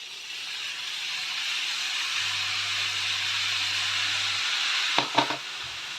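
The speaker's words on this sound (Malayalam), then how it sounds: "ഇനിയിപ്പം നമ്മുടെ ഇതുണ്ട് പുളിവെള്ളം നമുക്ക് മൊത്തമായിട്ടങ്ങ് ഒഴിക്കാം" Tamarind water goes into a hot pan of frying bitter gourd thoran, giving a loud, steady sizzle and hiss, followed near the end by a few quick scraping stirs, with no talk.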